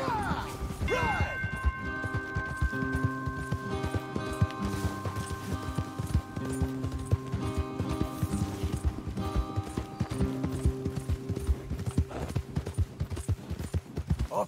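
Rapid clip-clop of galloping horses in Red Dead Redemption 2 runs throughout, loud and close, layered with steady game music and occasional crashes.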